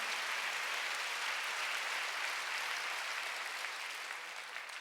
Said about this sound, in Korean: 시험 박수로 하나 주세요.